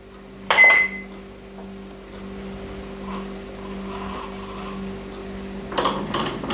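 A microwave oven runs with a steady low electrical hum while heating sticky rice for a mango sticky rice dessert, with a sharp clunk near the start and some rustling handling noise at the end.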